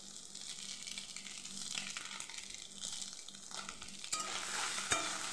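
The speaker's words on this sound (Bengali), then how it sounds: "সয়াবিনগুলো আমি মিডিয়াম ফ্লেমে 2 থেকে 3 মিনিট ভেজে নেব।" Soybean chunks with salt and turmeric fry in a pan over medium flame, sizzling steadily up close while a utensil stirs and scrapes, with a couple of sharper clacks near the end.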